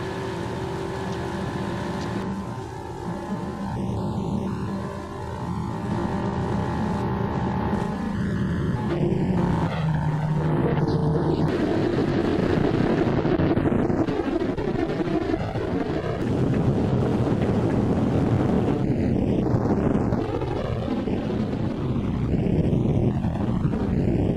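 A Martin B-26 Marauder aircraft engine cranks and catches, then builds into a loud, rough roar that keeps running with wind buffeting the microphone.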